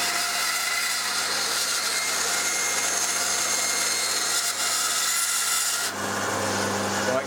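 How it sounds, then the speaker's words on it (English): A bandsaw with a fine blade cuts a section off a bar, producing a continuous loud, even rasping whine throughout that eases slightly near the end. "So I'll cut a section off on the bandsaw here."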